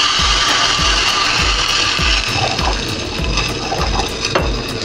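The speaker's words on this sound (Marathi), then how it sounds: "आणि कढीपत्ता पाणी टाकून घेऊया" Curry leaves and water go into a hot oil tempering with mustard seeds, chillies and asafoetida for dhokla, giving a loud, close, continuous sizzle and bubbling with rhythmic pulsing from a low repeating thump.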